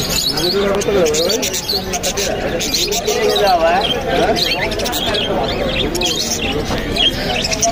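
Many birds, including exotic species, chirping and cooing together in a busy, noisy crowd at the Mirpur 13 Bottola bird market, with people talking throughout the clamor.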